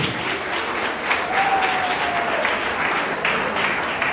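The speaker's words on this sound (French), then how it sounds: "Applaudissez." Guests at a civil wedding ceremony applaud, a loud continuous clatter of clapping hands that stays steady throughout, with a faint tone threading through it.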